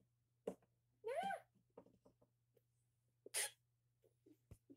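A single close, loud sneeze bursts out once near the middle amid scattered quiet voice sounds and a low steady hum, with another short vocal outburst earlier.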